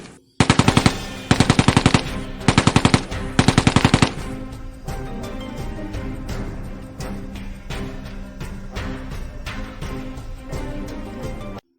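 Gunfire from a skyscraper action film: several sharp bursts of rapid automatic fire in quick succession, loud and close, then a sustained rumbling action-scene din with scattered impacts.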